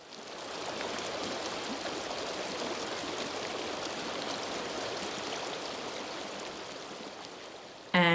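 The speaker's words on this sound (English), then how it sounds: "they miss the sound of the river" The Bow River in Calgary flowing as a steady, continuous rush of water, moderately close, holding an even level for the whole stretch before a brief louder burst at the very end.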